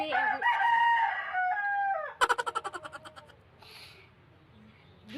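A rooster finishes a long crow, then a rapid series of sharp clucks follows and fades, leaving faint background noise.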